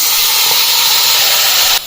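Boiled potatoes hitting hot oil in a pan give a steady, loud, broadband sizzle with a strong hiss. It holds constant for almost two seconds, then cuts off abruptly.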